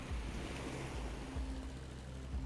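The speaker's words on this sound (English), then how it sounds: "We're gonna listen to the cool waves" Ocean waves in the Jalopy driving game roll and wash in a continuous low rumbling surf, steady and fairly loud, with a windy hiss and no voices.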